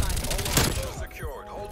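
Red tracer rounds from automatic gunfire in Call of Duty: Cold War, a dense burst of rapid shots up close, then tapering into scattered reports.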